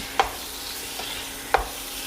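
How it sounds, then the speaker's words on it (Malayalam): Chicken and gravy stirred together in a pan, a soft steady sizzle broken by two sharp scrapes of the spoon against the metal, with no voices. "ഇപ്പോൾ ഒരു 3 മിനിറ്റ് ചിക്കനും ഈ ഗ്രേവി എല്ലാം കൂടെ നന്നായിട്ടൊന്ന് മിക്സ് ചെയ്ത് കാണാം"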